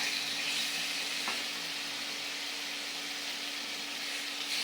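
Tomatoes fry in oil with spice paste in a village kitchen, giving a continuous, even hiss of moderate loudness with no one talking.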